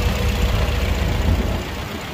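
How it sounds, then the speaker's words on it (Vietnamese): A 2012 Toyota Vios E sedan's engine idles smoothly and steadily, a close, even low rumble with no irregular knocks or odd noises. "Ngoài tiếng động cơ ra thì không có một chút tiếng động lạ nào cả."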